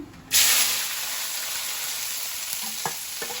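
Onions hit hot oil in a pan for a cabbage and potato gravy, letting out a sudden loud sizzling hiss that stays steady and bright, with a few soft stirring clicks near the end.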